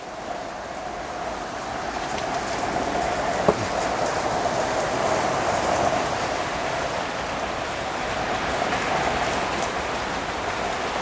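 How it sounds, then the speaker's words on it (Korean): Heavy rain pours steadily onto the yard of an old house where a mulberry tree stands. It makes a loud, dense, continuous hiss of drops throughout, with no voices. "그래서 빗소리가 많이 들리는데"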